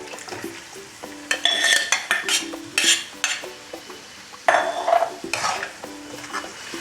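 Mutton stir-fried in a pan for mutton chukka: a steady sizzle with repeated scraping and clanking of a utensil against the pan, loud and close, with no voices.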